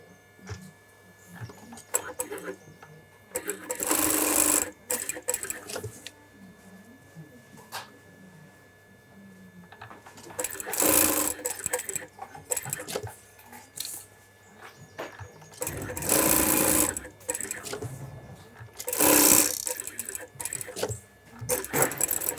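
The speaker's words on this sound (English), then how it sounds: "Then you sew the yokes to the back." A sewing machine stitches shirt yokes onto the back panel in a bespoke shirt factory in London, running in several separate bursts between pauses, with a person talking quietly in between.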